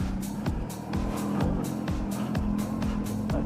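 A fast superbike rolls down a pit lane, its engine giving a rapid, pulsing run of revs and gear-like bursts, close and loud.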